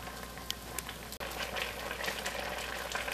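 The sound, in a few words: apples boiling in a pot for apple sauce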